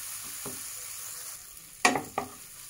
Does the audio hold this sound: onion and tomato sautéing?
yes